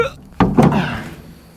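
A trap cage door swings shut with one hollow thunk and a second heavier knock close behind, then a fading rattle, close and fairly loud in a village setting.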